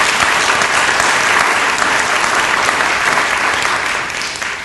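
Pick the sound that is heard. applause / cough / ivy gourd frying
applause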